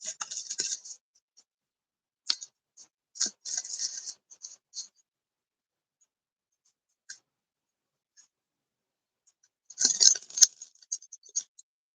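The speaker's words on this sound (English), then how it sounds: "I'm shuffling here the cards." Tarot cards being shuffled by hand, soft papery scratches and riffles in short scattered bursts separated by silence, quiet and close, with a denser flurry toward the end and no talking.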